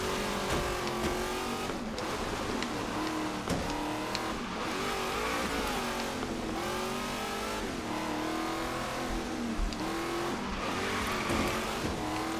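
A drifting car in the Forza Horizon 3 racing game with its Hot Wheels tracks, engine revving and rising and falling with tire squeal through the slides, steady and continuous without talk.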